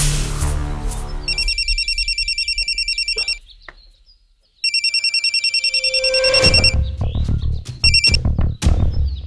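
Phone call ringing in a drama scene: two bursts of electronic ring tone with a pause between them, loud and close, followed by clattering noises.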